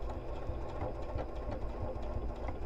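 A sewing machine runs a steady, continuous stitch across a paper piecing line, a soft, even mechanical whir with faint rhythmic ticking, close and alone.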